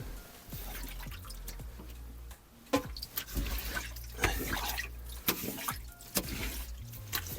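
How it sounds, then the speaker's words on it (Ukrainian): Water drips and splashes as a hand scoops it out of the flooded trunk of a BMW E38 sedan, with soft irregular plops and trickles close by in a quiet space. "Вичерпую рукою воду"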